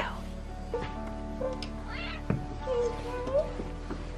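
A cat meowing indoors, a few short, fairly faint meows spaced across several seconds, with people talking nearby.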